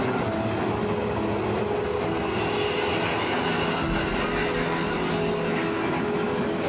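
A train rumbles steadily past a small house right beside the railway tracks under a bridge, a loud, continuous roar with a faint rhythmic clatter and no talking.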